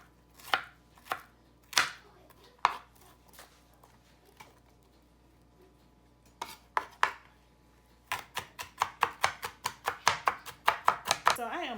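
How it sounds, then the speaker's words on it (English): A knife chops onions on a cutting board in a home kitchen, first in scattered single sharp knocks, then after a pause in a fast, steady run of close, crisp taps that quicken toward the end. "So I am done chopping up my onions"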